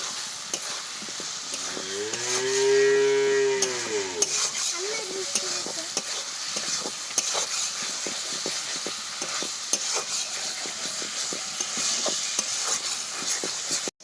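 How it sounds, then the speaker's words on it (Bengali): Spice paste and fried potatoes stirred and frying in a pan, steady close sizzle with constant scraping of a spatula, a brief tonal whine near the start, no voices. "এই মশলা কষানোর সাথে দিয়ে দিচ্ছি ভেজে রাখা আলু।"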